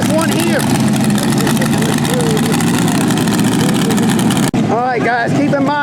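A tractor-pull tractor with zoomie exhaust pipes roars loudly and steadily close by, with a raw, throbbing engine note, and voices talk and shout over it throughout.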